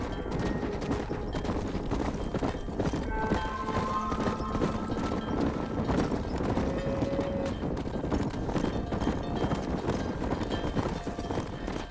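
A horse gallops across open country in Red Dead Redemption, its hooves pounding out a quick, continuous clip-clop rhythm in the foreground, mixed with the game's ambient sound.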